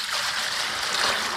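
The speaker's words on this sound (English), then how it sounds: "I'm going to pour this one to this bucket" Diluted distilled white vinegar pours steadily into a bucket holding a gallon of water, giving a continuous close splashing gush with no other sounds.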